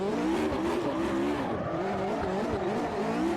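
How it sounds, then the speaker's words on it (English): A race car slides through a corner in the Automobilista 2 racing sim, its tires skidding and squealing in wavering tones over steady engine drone, loud and continuous throughout with no talking. "And impossible to have like a slide moment like that."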